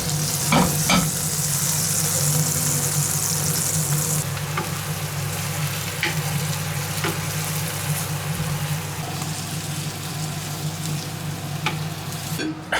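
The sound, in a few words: bread toasting in a hot pan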